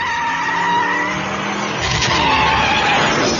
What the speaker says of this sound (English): Suddenly, it came to a screeching halt in front of a dark alley where three hoods were mugging a tourist.